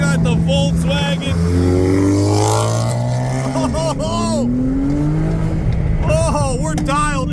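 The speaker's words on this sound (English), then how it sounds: "Man, it is some snap, crackle, pop out here. You hear all these exhausts?" Cars at a street car meet, among them a Z and a Volkswagen, rev and pass with rising and falling engine tones while exhausts give off snaps and crackles. Someone talks excitedly over the loud, busy engine noise.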